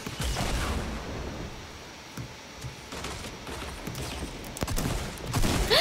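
Bottle rockets in Fortnite fire as a rapid crackling string of small bursts and pops over busy game noise, continuing for several seconds at close range.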